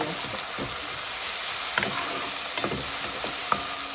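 Aromatics sautéing in a pan for Jamaican ackee and saltfish: a steady sizzle runs throughout, broken by a few sharp scraping stirs of a utensil across the pan, close and clear, with no talk.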